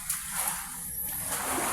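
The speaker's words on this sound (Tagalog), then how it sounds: "Malakas pa guys ang hangin at ulan." Strong wind and rain sweep a coastline with big offshore waves, heard as a brief, continuous rushing hiss of weather noise with no voices.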